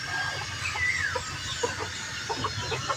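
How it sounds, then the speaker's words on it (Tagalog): Chickens, gamefowl, clucking softly in the morning after being fed: scattered short clucks and a brief higher call over low background rumble, fairly faint and close by, with no talking. "Pinakain na natin mga manok."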